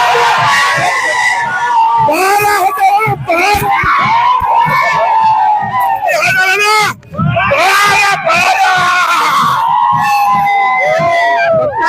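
A large, dense crowd roars and shouts in celebration of an election win for Santosh Bangar, loud and continuous throughout with overlapping yells and voices, briefly dipping near the middle before surging again.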